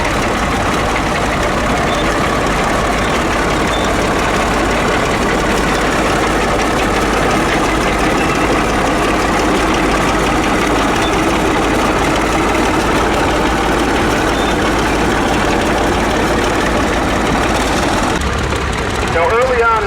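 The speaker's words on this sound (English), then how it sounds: "This is a Caterpillar Model 20." A Caterpillar Model 20 crawler tractor idles at the Rock River Thresheree in Edgerton, Wisconsin, its engine a loud, steady, low rumble throughout, with someone talking over it.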